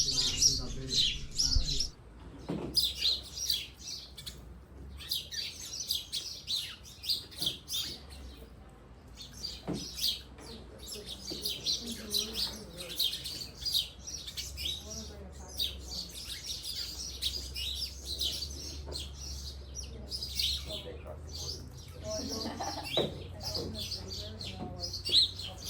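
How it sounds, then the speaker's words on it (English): Many small birds chirp and tweet from a nest up inside a tiki hut in Mexico, dense overlapping calls that continue throughout, fairly close, with a soft low background rumble and faint voices. "There's so many birds up there chirping."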